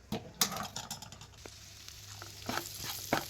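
Cauliflower frying in hot oil in a pan sizzles continuously while a spoon stirs it, giving soft scraping strokes and occasional sharper taps against the pan, close and fairly quiet.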